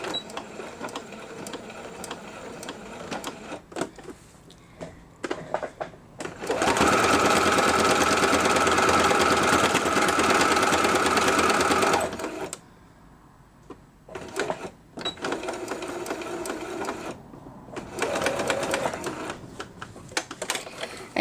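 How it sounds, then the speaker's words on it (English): Sewing machine stitching a fabric placemat, running in one loud steady whir for about five seconds in the middle, with quieter handling noises and brief bursts of stitching before and after. "I'm going to head over to the sewing machine and I'm going to stitch along that line"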